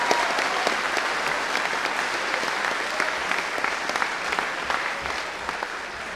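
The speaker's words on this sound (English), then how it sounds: "So a big round of applause for Troy." A school hall audience at a house music competition gives sustained applause, dense steady clapping that carries evenly for several seconds without letup.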